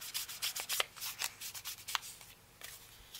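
An ink pad is rubbed along the paper edges of a journal page in a series of quick, soft, brushing strokes, close and faint, with no talking.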